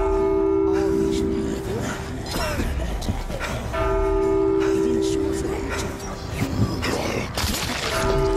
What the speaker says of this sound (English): I can't hear a single thing with that bell.